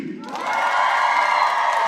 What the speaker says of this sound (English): It's cheering and clapping